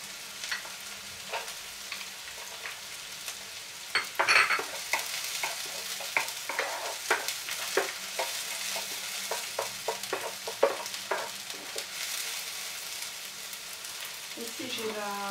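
Garlic frying in a pan for pumpkin penne, a soft sizzle broken by repeated stirring and scraping clicks, mostly quiet with a few louder knocks.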